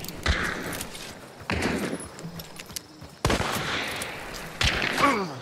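Gunfire in a multiplayer shooter video game, several sharp loud bursts of shots separated by short pauses, close and punchy, with faint background game noise between them.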